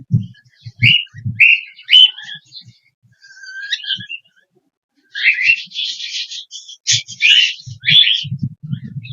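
A cockatiel with an eye infection chirps and whistles in short bright bursts, with a pause in the middle and then a busier run of calls. Soft low thumps are scattered underneath.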